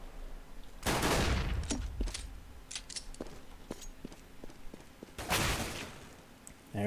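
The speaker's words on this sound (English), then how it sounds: "There is the headshot from Bayali from connector" Counter-Strike gunfire on the Mirage map during a Na'Vi vs Virtus.Pro match: two loud bursts of rapid shots with scattered single distant shots between them, no talk over it.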